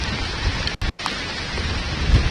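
Heavy rain pours down steadily during a thunderstorm at Seaside Heights on the Jersey Shore, a dense roaring wash with a brief dropout and a low thunder rumble near the end.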